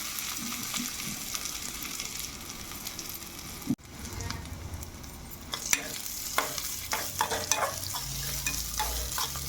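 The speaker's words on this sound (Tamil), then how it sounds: "லைட்டாக ஒரு நிமிஷத்துக்கு வதக்கி எடுத்துக்கிட்டால் போதும்" Crushed black pepper and cumin sautéing in oil after popped mustard seeds: continuous frying sizzle close by, a sudden clank near the middle, then busier stirring with scraping and ticking sounds.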